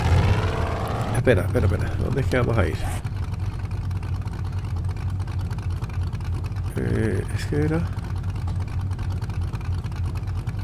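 Motorbike engine in 7 Days to Die, a steady low droning hum running underneath the whole stretch while someone talks in Spanish over it.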